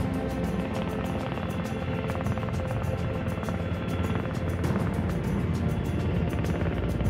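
A Coast Guard rescue helicopter during an Alaska logging accident response gives a continuous, rhythmic rotor thump and engine whine, steady and fairly loud, with no talk.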